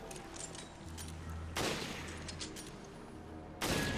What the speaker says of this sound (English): I just pick them off with my sniper rifle